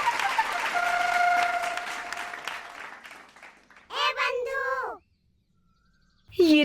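A group claps steadily for about three seconds, then the applause fades and a voice speaks over near silence.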